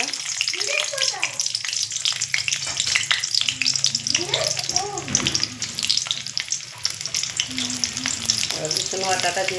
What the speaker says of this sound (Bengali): এবারে আমি দুটো তেজপাতা দিয়ে দিলাম, কাঁচা লঙ্কা সেলাই করে দিয়ে দিলাম